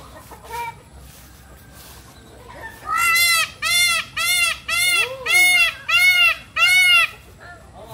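Chickens of unusual breeds on a farm give a series of about seven loud, evenly spaced calls close by, after a few fainter calls at the start.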